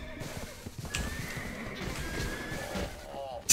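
In a video game, a horse whinnies clearly amid scattered hoof clops and game noises, with a sharp clatter right at the end.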